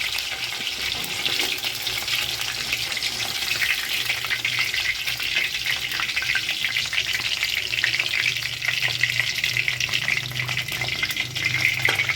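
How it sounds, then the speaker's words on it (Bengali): Chicken pieces for chili chicken fry in a pan, giving a loud, dense, continuous sizzle with light stirring throughout and no talking. "এগুলো ভাজা হয়ে গেছে, বাকিগুলো সেমভাবে ভেজে নেব"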